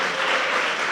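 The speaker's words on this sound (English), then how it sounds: "deserves a round of applause." A crowd claps steadily in a dense, continuous burst of audience applause, loud and even throughout the short stretch.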